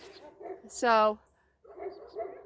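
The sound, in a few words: neighbor's dogs barking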